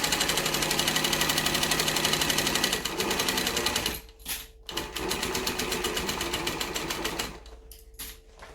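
Cylinder arm sewing machine stitching a Linette business bag by Swoon, a long continuous whirring run that briefly stops, restarts, then slows into shorter stitches.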